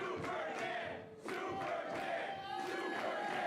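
Indie wrestling crowd roaring in support of Dan Barry during his match with AEW's Trent Barreta at Brickomania, a loud continuous cheer with shouted voices, dipping briefly then surging again.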